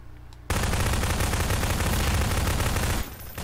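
Sustained rapid gunfire in the Prop Hunt video game erupts after a brief quiet start and roars loud and continuous for about two and a half seconds, then drops off abruptly.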